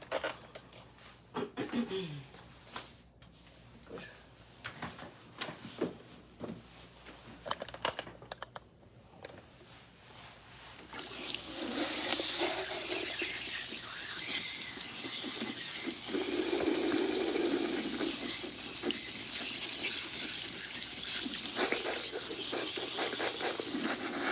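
Salon sink faucet running while a client's hair is shampooed, a steady loud hiss and splash of water that starts partway through after quieter handling sounds and continues to the end.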